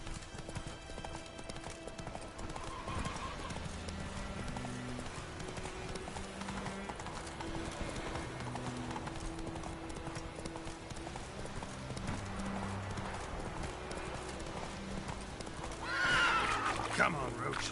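Roach the horse gallops in The Witcher 3 video game, with steady clip-clopping hoofbeats running throughout over continuous game background sound, then a loud whinny rises near the end.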